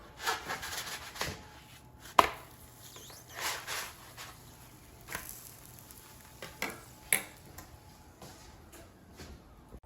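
A spatula scrapes and flips Swedish pancakes in a pan, with soft intermittent scraping strokes and light taps spaced a few seconds apart over a faint background hum.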